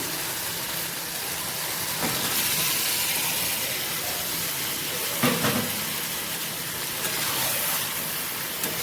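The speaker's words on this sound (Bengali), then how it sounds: "এখন আমি ওর মধ্যে মাংসটা ঢেলে দেবো।" Meat is poured into hot fried whole spices and sizzles with a loud, continuous hiss that holds throughout, with a few brief bursts of extra crackle along the way and no talk.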